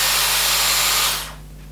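A Dyson Airwrap hair styler blows cold air onto a strand of hair, producing a steady, close airy whoosh that drops away sharply after about a second, leaving a low motor hum.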